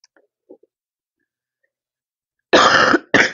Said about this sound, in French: je tousse là parce que la All Purpose, elle a une odeur